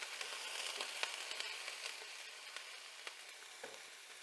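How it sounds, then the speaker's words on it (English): Garden-fresh onions sizzle and crackle in a frying pan, a steady bright frying hiss with small irregular pops and faint scrapes of stirring, no voices. "I'll give these onions a quick stir again."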